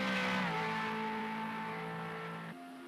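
A Formula Renault race car engine in the Project CARS racing game, at Monza, screaming at high revs with a sharp harmonic whine that drops through a gear change then climbs and shifts again, loud and close throughout.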